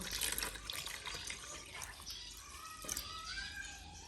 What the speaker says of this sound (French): pour arroser les plantes